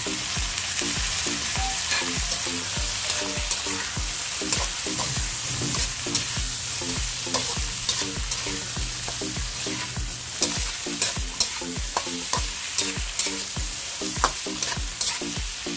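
Hotdog pieces sizzle steadily in a pan with tomato while a utensil scrapes and stirs in a regular rhythm of sharp clacks over the constant frying hiss, no voices.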